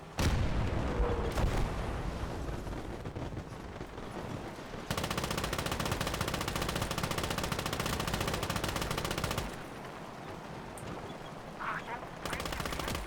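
Enemy gunfire in the WWII strategy game Call To Arms: Gates Of Hell, dense bursts of rapid machine-gun fire and booming shots, loudest in a sustained barrage mid-clip, with scattered distant shots around it.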